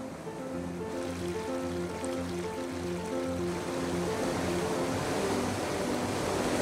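A fast-flowing straight stream in the Englischer Garten park in Munich rushes continuously, a steady broadband wash growing slightly louder, with soft repeating musical tones underneath.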